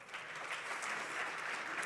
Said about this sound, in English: the Minister of Mines and Energy of the Republic of Namibia is worthy of a bigger round of applause